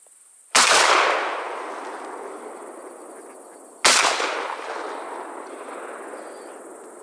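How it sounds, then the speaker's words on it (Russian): Two loud shotgun blasts ring out a few seconds apart during an evening duck hunt, each shot rolling away in a long echoing tail over a faint background of insects. "Второй раз можно было не стрелять."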